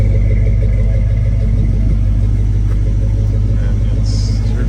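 A 1979 Ford Bronco with dual exhaust idling nearby, a deep steady low-pitched rumble with even pulsing throughout, loud and close, with someone talking over it.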